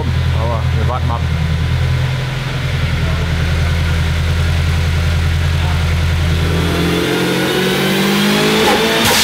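Turbocharged Honda Integra with a B18 engine revving hard on a dyno at maximum boost, a loud sustained engine roar climbing and then dropping, with a voice talking briefly over it.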